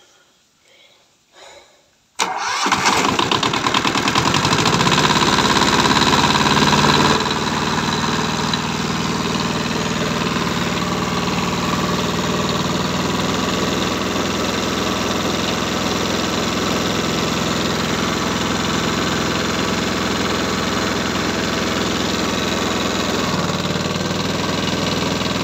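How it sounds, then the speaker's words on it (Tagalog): A farm pump engine with its own starter cranks briefly, catches and settles into a loud, steady mid-to-low idle that drones on evenly for the rest of the span. "Ito po, may sarili po itong starter. Ayan. Ayan, pag-atras dyan, i-start po yan."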